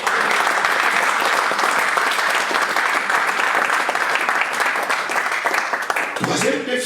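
A church congregation in Paris breaks into sustained, loud applause and cheering, a dense wall of clapping that fills the room without pause.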